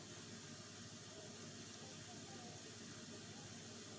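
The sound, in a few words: steam hissing from a cooking pot, like a pressure cooker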